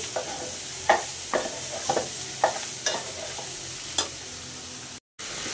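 A bitter gourd fry with chili sizzles steadily in a pan over a gas stove while a spatula stirs and scrapes it, giving a series of distinct clacks over the constant frying hiss.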